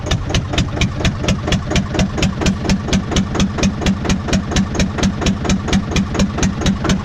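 Digger engine idling just after a cold start, producing a loud, close, steady chugging with an even, regular beat and no throttle change.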